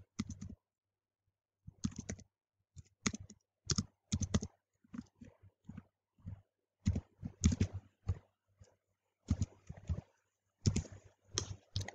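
Fingers tap on a computer keyboard in quick bursts of crisp clicks separated by short pauses, close and fairly quiet, with no talking.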